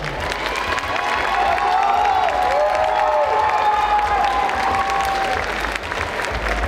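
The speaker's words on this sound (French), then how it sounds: "On les applaudit très très fort." Audience at a cosplay contest at a French convention applauds the contestants, a steady, loud wash of clapping with some cheering that fills the whole stretch, with a faint tonal whine running underneath.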